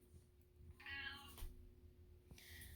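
Cat meowing softly, two short faint meows a second or so apart in a quiet room, with no talk.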